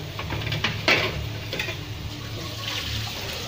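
Onions sautéing with green chilli greens in a pan, a steady soft sizzle with intermittent scraping and stirring clinks of a utensil against the pan, close and continuous throughout.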